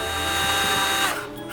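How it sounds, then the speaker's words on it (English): A handheld power drill bores holes in a DIY jewelry organizer, giving a short, loud, steady whine that drops off near the end. "it's time to drill our holes. So you want to take your drill gun"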